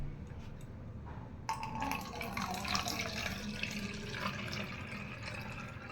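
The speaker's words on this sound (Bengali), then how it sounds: "আমি এতটার মতো জল নিয়ে নিয়েছি" Tap water runs steadily into a container in a home kitchen to make a cleaning solution, a continuous close splashing rush that starts after a short pause and carries on without talk.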